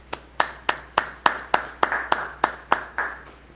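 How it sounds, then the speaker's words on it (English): A congregation claps at a Sabbath service, about twelve loud, crisp hand claps in a steady even rhythm, close and clear with no talking over them. "Clap that up."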